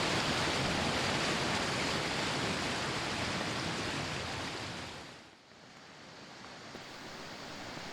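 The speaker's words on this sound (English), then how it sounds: "the water was right up, tearing angrily at the platform of the bridge" Floodwater tears past a bridge platform in Kalinga Park, Queensland, roaring as a dense, steady broadband rush close by, dipping briefly before resuming at full force.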